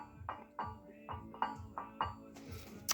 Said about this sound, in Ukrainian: Це звук тих шестерень